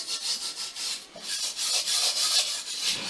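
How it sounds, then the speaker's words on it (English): A cast iron pot is scrubbed by hand with quick, rhythmic rasping strokes, close and fairly loud, repeating steadily with no talk. "It's a lot of scrubbing."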